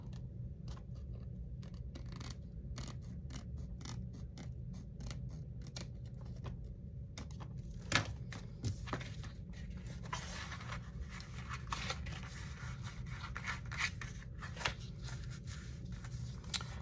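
Paper being trimmed with scissors for a flipbook made from a paper towel roll, a quiet series of crisp snipping cuts in uneven rhythm, close by over a faint steady hum, with no talking.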